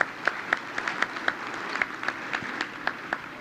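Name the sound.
audience applause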